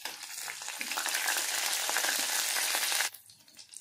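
Garlic fries in oil with a close, busy sizzle and crackle that runs for about three seconds, then drops off abruptly to faint spatters.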